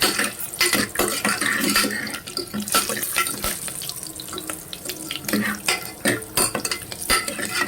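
Dry fruits frying in a pan at home, giving a steady crackling sizzle broken by scraping and clinking as a spoon stirs them, moderately loud and close.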